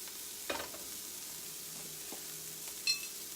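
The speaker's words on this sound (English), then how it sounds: "We've got broccoli sauteing, red peppers, a little bit of onion" Broccoli, red peppers and onion sauté in a pan with a steady, faint sizzle, marked by a couple of soft stirring scrapes, and no one speaking.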